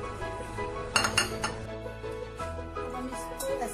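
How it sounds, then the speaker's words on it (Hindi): Utensil clinks and scraping as chopped dry fruits are stirred into mashed whole wheat roti in a pan for malida, with a few sharp metallic knocks early on and steady mixing sounds after. "अब हमने ये जो ड्राई फ्रूट्स काटे हैं सब ये मिक्स कर देंगे इसी में"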